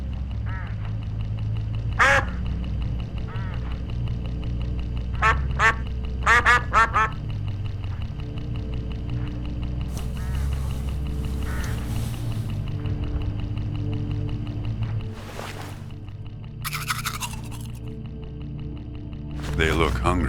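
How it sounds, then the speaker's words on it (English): Hooded crows in a video game, heard on a roadside, give a scattering of short, harsh caws in irregular bursts over a steady low droning soundtrack. "Look, hooded crows all along this road."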